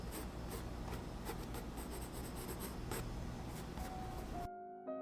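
Colored pencil scratches steadily across paper in a close, continuous scratchy rasp with quick repeated strokes, stopping abruptly just before the end, with no talking.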